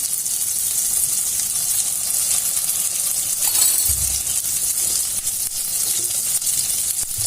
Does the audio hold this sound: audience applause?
no